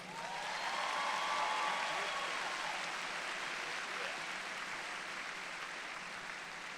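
Audience applause at a commencement ceremony honoring an alumni award recipient, a broad steady wash of clapping from a large crowd that swells early and then holds at a moderate, even level, with a faint voice underneath.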